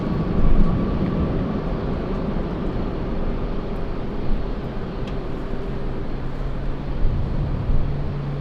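A United airliner bound for Honolulu at LAX airport produces a steady, broad jet roar that holds at an even level for several seconds, moderately distant, with no voices.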